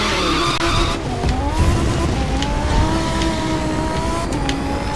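Car tires squealing and skidding through corners in the racing game The Crew 2, a sustained loud screech with wavering pitch over a roaring engine, close and continuous.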